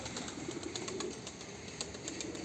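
A bird in a chicken coop, likely a pigeon, coos softly in low repeated calls with faint rustling and occasional wing flutters, quiet and fairly close, with no talking.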